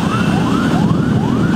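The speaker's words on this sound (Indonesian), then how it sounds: "mobil ambulans yang membawa jenazah almarhumah Titi Puspa dari Rumah Sakit Medistra menuju ke rumah duka" Ambulance siren wailing in repeated rising sweeps, loud and steady over heavy traffic rumble, as the vehicle carries a body from Medistra Hospital to a house of mourning.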